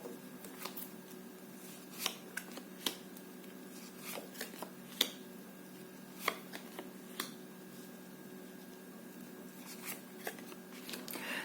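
Quiet shuffling of tarot cards, soft irregular riffles and taps close by, with a faint steady hum underneath.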